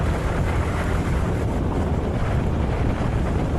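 Motorcycle ride through Pangasinan, Philippines, heard as constant loud wind buffeting over the microphone with a low rumbling roar throughout, no voices.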